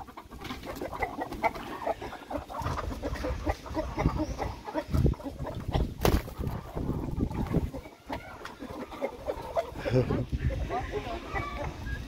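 A turkey on a rural Brazilian farm calls with short fowl clucks and gobbles, close by, amid frequent talking in Portuguese and outdoor farm background noise.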